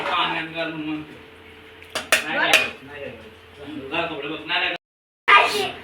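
A utensil scrapes and clinks against a cooking pot while rice is stirred, with a person talking over the clatter.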